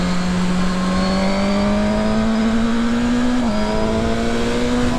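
A 2019 Suzuki GSX-R1000R sport motorcycle accelerates hard in second gear, its engine note climbing steadily in a loud, close howl, with a brief dip near the middle before rising again, and no talk over it.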